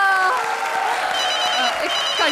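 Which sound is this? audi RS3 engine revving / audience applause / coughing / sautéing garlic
audience applause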